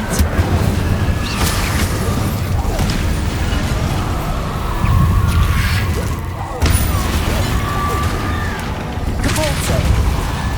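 Combat spells in Hogwarts Legacy crack and boom in rapid succession, a dense barrage of magical blasts and bursts close up, while voices call out over the constant clash.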